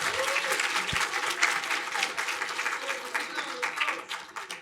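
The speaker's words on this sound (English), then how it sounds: "Students, give yourselves a round of applause because you did amazing." Sustained, dense applause from an audience honoring students at a UCLA nanoscience pitch competition finals, steady and loud throughout with no break.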